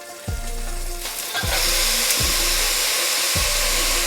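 Hot beef grease poured from a frying pan through a strainer gives a loud, steady sizzling hiss with a few low thumps and knocks of the pan scattered through it.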